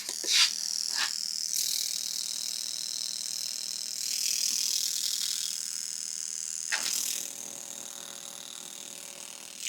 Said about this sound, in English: That was a pretty decent mist there.